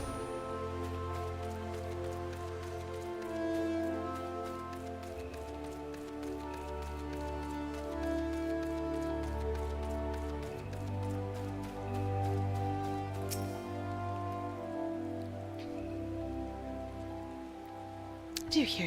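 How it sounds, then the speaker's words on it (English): Rain falls steadily in the Gridania forest of Final Fantasy XIV, a soft continuous patter under layered ambient music, moderately quiet and unbroken throughout. "is raining in Gridania again."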